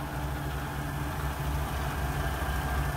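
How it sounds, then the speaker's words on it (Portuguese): A DAF XF truck with a 530-horsepower PACCAR MX-13 engine idles nearby, a steady, deep rumbling drone with no change in pace. "Olha o ronco do motor Pacar MX-13."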